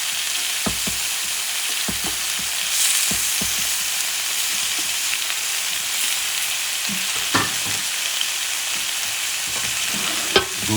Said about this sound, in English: Sweetening this baby. Flip the sausages.